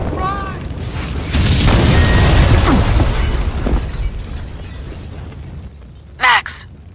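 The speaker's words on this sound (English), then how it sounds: "The building's blowing up." A building blowing up in the video game Max Payne 2: a loud, sustained blast roar with debris and rumble fills the middle of the clip, fading into a low tail before a short sharp burst near the end.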